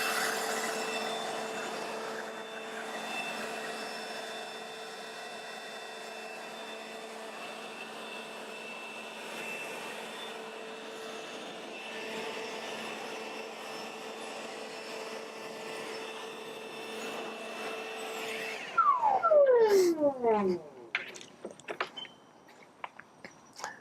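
A Milwaukee Fuel cordless blower, 450 CFM and 100 mph, drying a 2017 C7 Corvette Stingray: a steady loud whirring roar runs for about twenty seconds, then the pitch sweeps down as it winds off, with a few clunks after.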